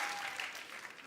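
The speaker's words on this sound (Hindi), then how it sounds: "आप सबकी तालियों के बीच इनवाइट करना चाहूंगा मिस्टर उमंग कुमार को।" A studio audience on a TV comedy show applauds to welcome a film director, a brief, steady wash of clapping at moderate level.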